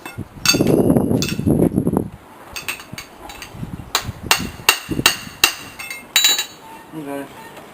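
A farrier hammers a horseshoe on a turning hammer (stool jack) to shape it to the foot, sharp ringing metallic strikes coming in irregular bursts, loud and close, with some duller blows early on.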